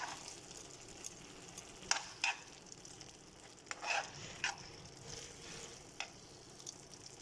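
Dum aloo cooked with ghee gives a low, faint sizzle, broken by several sharp clinks and scrapes as the mixture is stirred in the pot.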